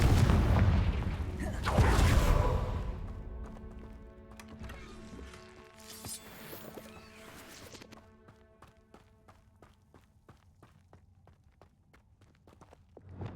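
Spell blasts from Hogwarts Legacy, Confringo and Bombarda, burst as heavy booms near the start, then give way to a run of sharp, rhythmic impacts and footstep-like thuds that fade into quieter ambience.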